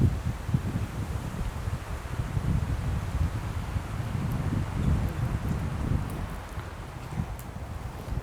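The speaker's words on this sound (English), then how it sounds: "Wind is really getting up again" Wind blowing through a forest at Cannock Chase, a steady low rushing roar with gusty swells and faint rustling, mostly continuous and fairly close to the microphone, without speech.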